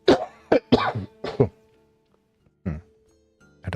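Several short, harsh coughs in quick bursts from a person recovering from illness, close and fairly loud, with a pause and then one more cough near the end.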